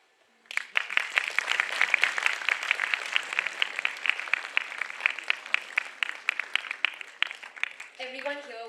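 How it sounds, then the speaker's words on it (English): Sustained applause with dense rapid clapping from a crowd, steady throughout and tapering slightly near the end. "Can we please give them a round of applause, please?"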